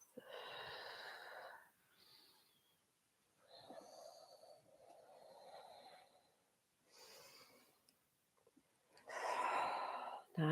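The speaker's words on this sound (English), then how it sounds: "inhale forward, exhale back. Lots of steady deep breaths" Slow, steady deep breaths during a yoga hamstring stretch, each long airy inhale and exhale close and soft, with quiet pauses between them.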